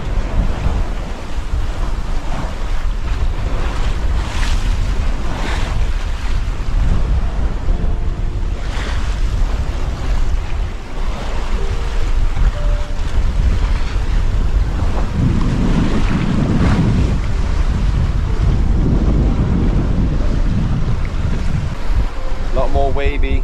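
A sailboat runs fast through choppy ocean waves on a passage from Tonga to New Zealand, with steady loud rushing water and wind buffeting the microphone throughout, and surges of spray and slapping swells rising and falling.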